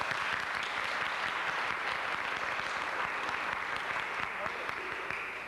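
An audience at a university lecture series applauds to welcome lecturer Carol Ann Tomlinson, with dense, sustained clapping filling the hall at an even level for several seconds before it starts to taper.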